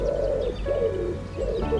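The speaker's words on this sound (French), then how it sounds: "La voix de l'oiseau peut exprimer la joie, la peur, l'avertissement ou l'amour." Soft, repeated dove-like cooing from a bird, three low hooting phrases with short gaps between them, fairly close and clear, with no talking.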